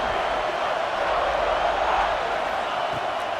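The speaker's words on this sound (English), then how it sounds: "The roar of the crowd trying to fuel this defense to keep them pinned in their own end." Stadium crowd roaring in EA College Football 26 at a Notre Dame Fighting Irish game, a dense, steady wash of cheering noise filling the whole moment at high volume.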